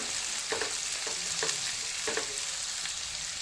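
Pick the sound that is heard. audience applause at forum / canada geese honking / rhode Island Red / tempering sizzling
tempering sizzling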